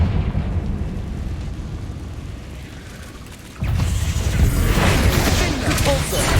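Fiery Confringo spell explosion in Hogwarts Legacy: after a few seconds of steady game rumble, a sudden loud blast erupts and sustains as a roaring, crackling burst.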